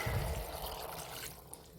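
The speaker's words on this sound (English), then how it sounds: "I'm gonna add in some water." Water poured into a pot for Mexican vegetable beef soup (caldo de res), a steady close splashing pour that starts heavier and gradually eases off, with no voices over it.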